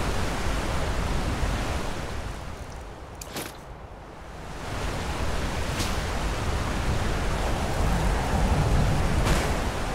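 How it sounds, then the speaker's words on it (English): Rushing waterfall water in the Skyrim video game, a loud steady roar of broadband spray that dips briefly and swells back, continuous throughout with no speech. "Proving to be a particularly stubborn waterfall."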